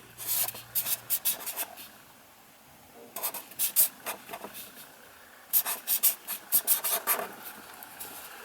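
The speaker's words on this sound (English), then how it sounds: "I'll mention it and I'll write it down" A marker writing on a thick dura-lar acetate plastic sheet, heard as bursts of squeaky rubbing strokes in three clusters separated by brief pauses, close and clear, with no talking.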